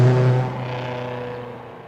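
A car engine idling with a low, steady exhaust rumble, a brief louder burst at the start, then settling and fading slightly.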